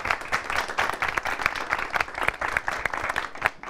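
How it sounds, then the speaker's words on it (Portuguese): An audience gives a round of applause for a reporter, dense continuous hand clapping that stays steady and close throughout, with no talk over it. "Salva de palmas pro Gui, nosso repórter."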